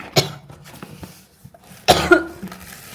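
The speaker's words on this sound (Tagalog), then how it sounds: "Bakit tayo inuubo," A person coughs nearby in a home: one sharp cough, then a louder double cough a moment later, with quiet room noise between.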